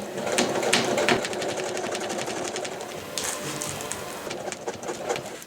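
A sewing machine stitching fabric for a thermal window cover, a fast steady mechanical clatter running close and continuous with brief pauses, birds faintly in the background.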